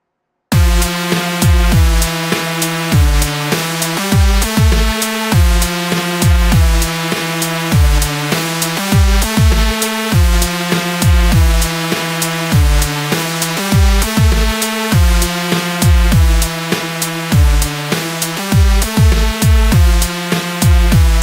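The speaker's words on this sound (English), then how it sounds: "So right now I've made this very basic drum pattern that goes on for 8 bars." Basic hip-hop drum pattern programmed in FL Studio 12, running eight bars: steady, loud, evenly repeating punchy kicks and snappy hits over a sustained tonal layer, looping without pause and with no voices.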